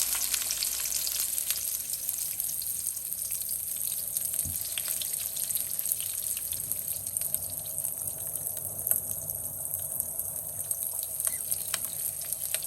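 Sliced onions frying in soybean oil in a pan, with a loud, steady sizzle and crackle that runs throughout, with no voices.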